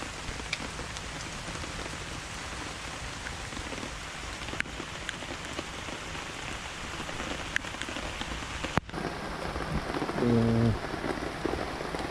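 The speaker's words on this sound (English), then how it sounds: "It's still raining lah, but it's okay." Steady rain falls outdoors during a flood, a dense continuous patter of drops on surfaces, loud and close throughout, with no voices.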